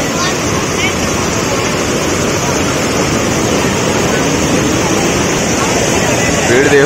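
Water rushing from the opened gates of a full dam, a loud continuous roar with broadband hiss and wind buffeting, steady throughout.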